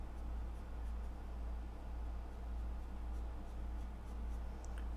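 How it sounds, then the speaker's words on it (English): A paper blending stump rubs pencil graphite into drawing paper, a soft, faint scratching and swishing in short strokes over a low steady hum. "with the paper stump dedicated for the pencil, I'm just indicating."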